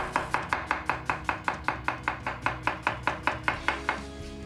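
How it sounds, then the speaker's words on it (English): A knife slices through an onion on a cutting board, about eighteen quick, evenly spaced chopping strokes with sharp clicks, close and steady, with no talking. "Now peel your onion and we'll slice that up too."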